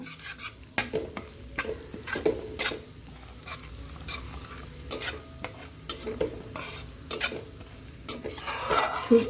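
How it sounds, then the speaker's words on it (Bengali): Semolina frying in ghee for a pumpkin halwa, stirred with a utensil that scrapes and clinks against the pan in irregular bursts over a steady low sizzle, close and alone with no talking. "সবার আগে সুজিগুলোকে আমি একটু বেশ লাল লাল করে ভেজে নেব।"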